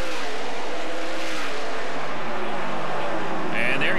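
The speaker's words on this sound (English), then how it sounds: "Big-time stock car racing here" Stock car racing at turn 3 of the Grand Prix de Trois-Rivières in Quebec, with a steady roar of engines as the cars brake into the corner, and a commentator talking over it.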